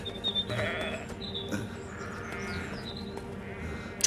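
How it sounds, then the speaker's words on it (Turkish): Several sheep bleat repeatedly, overlapping calls rising above a busy outdoor background of shuffling and low rumble. "Çek şu koyunları önümden!"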